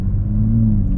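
A 2024 Nissan Z's engine rumbles steadily from inside the car as it pulls away, a loud low drone that holds throughout.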